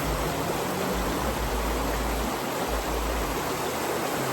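A mountain stream at a riverside campsite in Uttaradit, Thailand, gives a steady, even rush of flowing water, continuous and close, with a low hum underneath and no voices.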